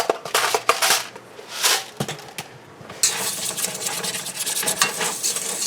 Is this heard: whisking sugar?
yes